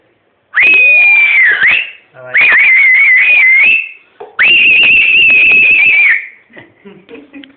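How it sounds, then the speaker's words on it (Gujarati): A person gives a long, loud, high whistle in three sustained blasts separated by short gaps, close and piercing, with faint trailing noise after the last one. "મસ્ત મોટી લાંબી સીટી મારું"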